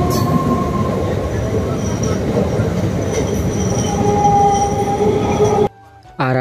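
Passenger train running near Panskura station, a loud, steady rumble of wheels and carriage noise with faint squeals throughout, dropping away abruptly near the end.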